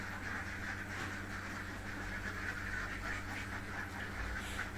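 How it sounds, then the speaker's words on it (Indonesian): A flock of about 300 laying ducks in a dry pen, giving a steady din of overlapping quacks under a constant low machine-like hum; moderately distant, with no talking. "ini bebek yang lama yang 300 ekor"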